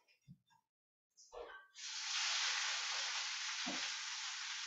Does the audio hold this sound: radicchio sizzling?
yes